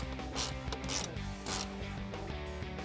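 A 10mm ratcheting wrench tightens the air intake bolts on a 2018-2019 Mustang GT during a K&N cold air intake install, giving close, rapid pawl clicks in several bursts against a faint mechanical background.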